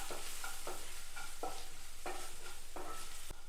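Spoon scraping and stirring coriander, chili, turmeric and chicken masala powders in a hot pan for chicken sausage curry, a series of brisk, evenly spaced scrapes over a constant soft sizzle.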